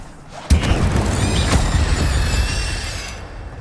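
An Incendio fire spell is cast in Hogwarts Legacy, opening with a sudden booming burst followed by a sustained roaring, whooshing rush with bright tonal shimmer that slowly fades.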